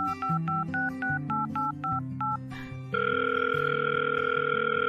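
A telephone number is dialed on a keypad: a quick run of distinct touch-tone beeps, each short and evenly spaced, followed by a steady, continuous line tone that holds to the end.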